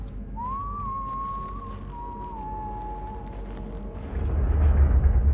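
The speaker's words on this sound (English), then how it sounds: "I'm hearing whistling, like a tune." A single soft whistled note glides up and holds, then drifts slightly lower before fading, followed by a rising low rumble.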